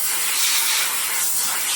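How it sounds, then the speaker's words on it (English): Compressed air blows debris off a Whipple supercharger blower and intercooler on a forged Mach 1 engine build: a steady, close, loud broadband hiss that holds for about two seconds with no talking. "I like to take a little compressed air and just make sure there's no debris in the blower or on top of the intercooler"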